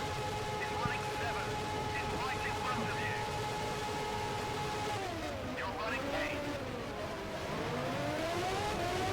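An F1 race car leaves the pits in F1 Challenge, set at the 1995 Brazil race, its engine whining at a steady pitch before dipping and climbing again through gear changes as someone talks over it.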